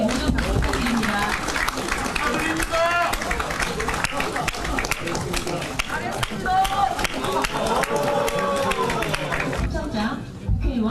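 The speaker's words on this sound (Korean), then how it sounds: "모두 박수 부탁드립니다." Applause and clapping ring out in a hall during an event honoring lawmakers, mixed with crowd chatter and voices, with an announcer's speech running over the top.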